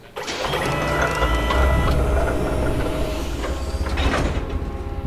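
Mechanical whirring, clunking and ratcheting as the Anvil Gladiator cockpit mechanism moves in Star Citizen, a continuous loud servo-like motion with a sharp clunk near the end.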